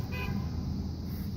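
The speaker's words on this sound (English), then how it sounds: "And someone honking at me." A car horn toots briefly out on a road, a short tonal honk near the start over steady engine and traffic rumble.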